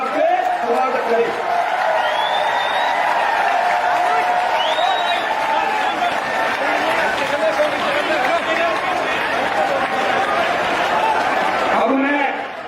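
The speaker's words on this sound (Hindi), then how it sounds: "आग्रह करता हूं सभी लोग तालियां बजाकर तालियों की गड़गड़ाहट से स्वागत करें" A large rally crowd in Karnal greets BSP leader Mayawati with a sustained, dense roar of clapping and cheering that holds steady for several seconds, with crowd chatter and voices mixed throughout.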